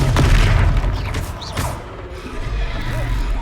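Heavy booming bursts and mechanical clatter of a Confringo fire-blast spell in the Hogwarts Legacy video game during a Hogsmeade battle, a dense continuous roar of combat effects with no clear gaps.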